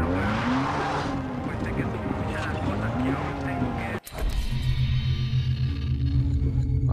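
Car driving and skidding in the Far Cry 3 video game, a steady engine drone with tire squeal throughout, cutting briefly before resuming; someone talks over it.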